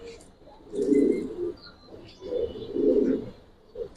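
Giribaz Bagha and Jabra pigeons at a pigeon fair coo in a few deep, rolling bursts, close and moderately loud, with soft crowd murmur beneath.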